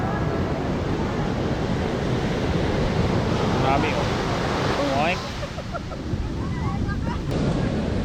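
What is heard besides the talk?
strong wind and waves at the sea during a typhoon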